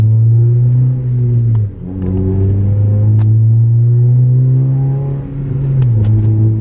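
A car runs on the road right after an oil change, its engine a loud, close steady drone that climbs through gear shifts, dipping briefly twice as revs drop, with no talking.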